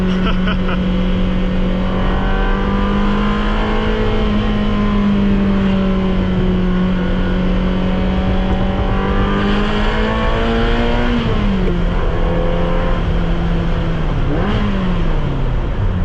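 A Ferrari engine roars close and loud while driving, its pitch climbing steadily through long revs, then dropping sharply at shifts before climbing again.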